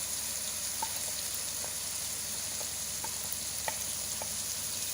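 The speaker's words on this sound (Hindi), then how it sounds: "अब 2 से 3 मिनट अच्छी तरह इसको भूनेंगे।" Spices and masala fry in a pan for mutton shorba, a faint, even sizzling hiss with scattered tiny pops and ticks throughout.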